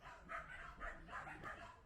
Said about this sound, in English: Now watch the dog in the background